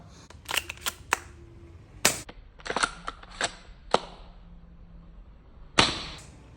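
ARES Amoeba Striker S1 airsoft bolt-action sniper rifle with a metal cylinder firing, sharp close snaps spaced out over several seconds, each followed by quick mechanical clicks of the bolt being worked, no speech.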